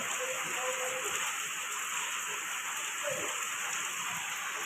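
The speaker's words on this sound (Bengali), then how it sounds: "এই তো সকাল সকাল বৃষ্টি" Steady heavy morning rain pours down under a dark sky, a continuous broadband hiss of drops that stays even and close throughout, with no clear voices.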